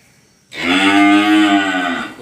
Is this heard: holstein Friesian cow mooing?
yes